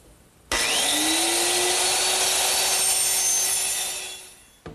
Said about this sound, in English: to trim the ends of both the seat and all the cross members, I'm just going to use my little lightweight circular saw